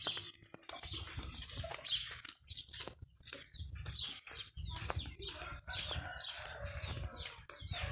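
Chickens clucking and squawking nearby with wing flaps and scattered bird chirps, busy and irregular throughout.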